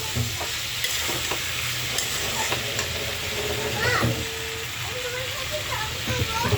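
Potato and cauliflower curry is sautéed and stirred in a pan: a continuous close sizzle with repeated scraping and stirring clatters throughout.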